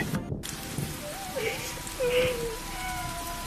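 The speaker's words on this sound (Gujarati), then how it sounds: "ધડાધડ વરસાદ વરસવા લાગ્યો." Steady rain hisses across the whole stretch, a dense wash of falling water with a couple of faint higher tonal cries rising over it.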